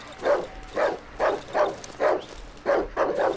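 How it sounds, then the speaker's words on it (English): Dogs in the Darkwood video game bark in a steady run of about eight evenly spaced, moderately loud barks, with no talk over them. "Okay, what's up with all the dogs?"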